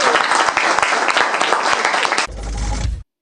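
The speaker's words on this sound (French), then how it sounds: "on peut les applaudir" Guests applaud a newly married couple at a wedding ceremony, a loud, full burst of clapping that stops abruptly after about two seconds, followed by a brief low rumble.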